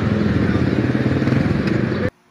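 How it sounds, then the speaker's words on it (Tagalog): A motorcycle fitted with a loud aftermarket muffler roars steadily up close in the Philippines, a continuous rumbling drone with some crackle. It runs for about two seconds and then cuts off abruptly into near silence. "Pakinggan nyo yung motor ni kuya."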